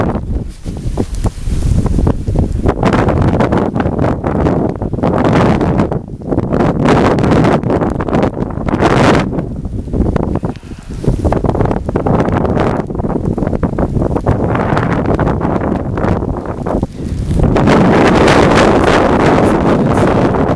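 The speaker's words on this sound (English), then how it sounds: "you guys know that wind is strong" Strong wind buffeting the microphone during a snow storm, a loud, roaring, gusty rush that surges and dips over about twenty seconds with brief lulls.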